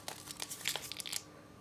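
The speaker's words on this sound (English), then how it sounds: "Fold the flaps over" Paper flaps being folded and creased for an origami star box, giving a close run of crisp crinkles and rustles for about a second before going quiet.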